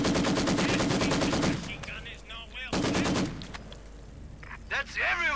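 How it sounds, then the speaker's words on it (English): A Maxim machine gun fires in the Company of Heroes 2 video game in long, rapid rattling bursts with a pause between, while a commentator talks over the battle sounds. "The Maxim fires away."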